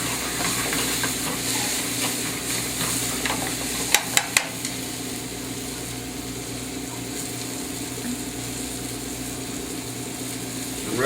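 Tomato sauce cooking in a pan for pork Marsala gives a steady low sizzle and simmer throughout, with a few sharp clicks near the middle and no talking.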